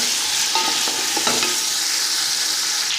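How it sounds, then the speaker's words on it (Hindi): Chicken pieces frying with onions in a pan for chicken biryani, a steady dense sizzle with a few clinks of a spoon stirring near the start, close and continuous, no voices. "ये चिकन को हल्का सा फ्राई करना है इसमें प्याज में।"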